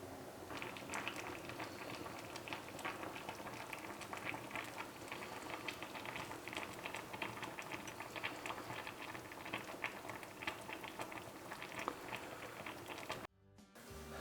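Pasta sauce simmering on low heat in a home country kitchen, a soft continuous bubbling and patter, faint and steady, cutting off abruptly near the end.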